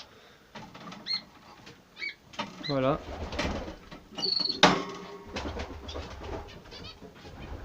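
A female canary flutters and scrabbles inside a cage in short bursts of wing flapping, with small chirps and a brief spoken word close by.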